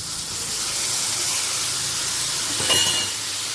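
Pointed gourd, potato and paneer fry in a covered pan over a low flame, producing a soft, even hiss and sizzle with a slight swell near the end.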